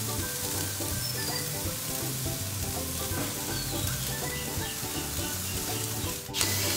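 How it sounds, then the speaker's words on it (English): Steak searing on a high-heat grill over open flame, giving a steady, close sizzle with faint crackles and a brief scrape near the end. "We really just want that flame to char up the protein and caramelize it really nicely"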